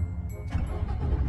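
A truck engine running steadily with its radiator fan left on, a dense low rumble and whirring drone throughout, with a faint voice briefly in the mix.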